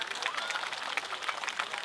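An outdoor audience of Phetchaburi townspeople at a Thai ramwong dance gathering claps for themselves, a brisk, even wash of crowd applause heard without speech.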